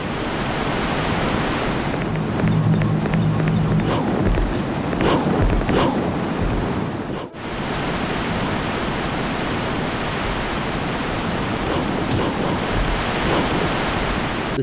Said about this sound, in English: The sound of flowing water as soon as you enter